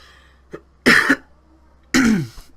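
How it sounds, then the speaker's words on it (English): A football commentator coughs twice, two harsh close bursts about a second apart, with a small throat catch just before them and no talk in between. "Sorry, I was coughing on."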